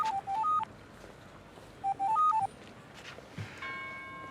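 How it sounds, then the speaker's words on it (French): A mobile phone rings with a short rising electronic melody, played twice, over a faint background hum. "Florian, ton portable!"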